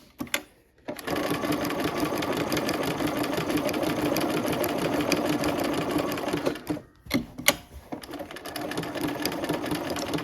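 A sewing machine stitches a quilt in a long, fast, steady run, pausing briefly once with a couple of sharp clicks before resuming close and clear.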